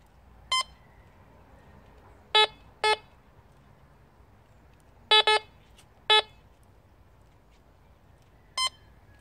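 A metal detector with a double-disc coil sweeps a field known for coins, giving seven short, clear electronic beeps at irregular intervals over a quiet outdoor background.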